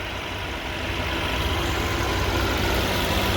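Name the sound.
Mercedes-AMG A35 2-liter turbocharged inline-4 engine idling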